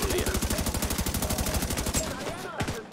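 Rapid automatic weapon fire in the video game The Division 2 rattles off in an even, fast burst of loud shots for about two seconds, then breaks off into a few scattered sounds.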